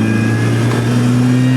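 A supercharged R53 Mini Cooper engine pulls hard under acceleration, a loud, close, steady rising drone with strong harmonic tones and no talking.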